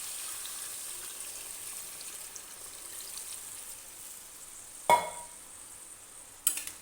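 Fried pointed gourd stirred in a pan as a quiet, continuous sizzle, then water poured in with a sharp splash and a hiss near the end, followed by a second splash.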